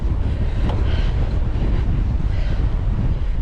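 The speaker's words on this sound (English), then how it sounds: "No, he can't hear me over the wind." Strong wind buffets the microphone during a seaside bicycle ride at sunrise on stormy seas, a steady loud roar filling the low end throughout with no talk.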